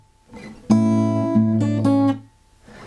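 A short fingerstyle guitar phrase from the Pirates of the Caribbean theme, a few plucked notes ringing clearly, played alone after a brief soft sound.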